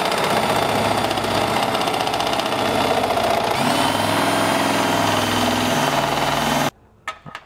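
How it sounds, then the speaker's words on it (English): A step drill bit enlarges an access hole in the steel frame of a 2021 Nissan Rogue Sport, giving a loud continuous drill whir with grinding metal that stops abruptly near the end. "So we're gonna be using a step bit to make it big enough until we can fit the head of our carriage bolts in there"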